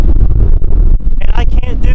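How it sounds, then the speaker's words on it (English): Strong, cold mountain wind in the Great Smoky Mountains in winter buffets the microphone in heavy, low rumbling gusts while a person speaks over it. "It's really windy and really cold"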